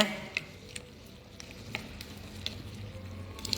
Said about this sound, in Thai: เดือดฝุดุดเห็นไหมจ้า